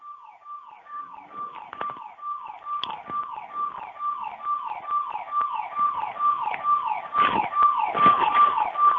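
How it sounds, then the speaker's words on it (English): A wailing siren rises and falls in repeated sweeping cycles, steady and moderately loud, growing slightly stronger toward the end with some background clatter. "a siren going out there"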